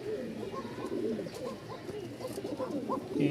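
Kokka pigeons cooing in a loft, a chorus of soft overlapping low coos from several birds close by, with faint voices in the background.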